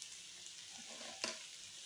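Shukto, a Bengali mixed-vegetable dish, is stirred in a pan over soft sizzling frying, with a brief scrape of the spoon standing out midway.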